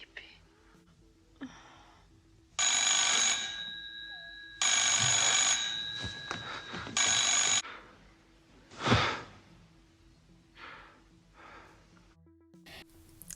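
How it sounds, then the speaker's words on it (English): A telephone rings in the horror film Possession: three long, bright electronic ring bursts with pauses between, heard at a moderate distance, followed by breathy sighs and gasps, with someone talking quietly over parts of it. "Later that night, Mark gets a phone call"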